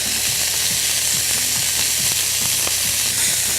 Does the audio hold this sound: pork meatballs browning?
yes